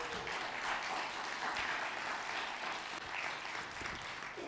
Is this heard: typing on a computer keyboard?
no